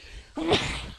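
A person gives one short, abrupt sneeze, a breathy burst at close range over a low background hum.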